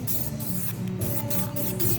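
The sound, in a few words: spray paint sprayed over roof template to mark outline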